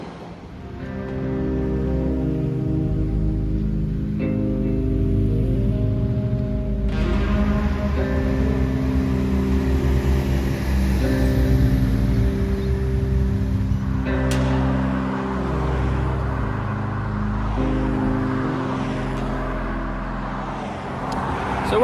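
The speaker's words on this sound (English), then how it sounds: "So one thing I've noticed on this walk so far is the traffic noise." Road traffic on a four-lane road, heard from the roadside: a steady roar of passing cars swelling and fading, with a louder vehicle rushing by midway, continuous with no talk.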